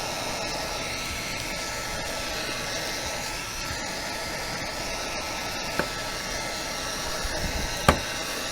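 Heat gun warming vinyl wrap pressed over a decal for embossing, giving a constant loud blowing roar throughout, with a couple of faint clicks near the end.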